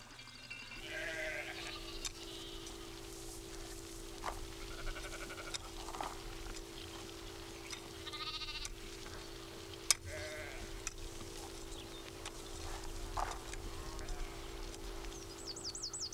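Sheep bleat now and then, near and far, in the mountains, over a steady low hum and a faint background drone.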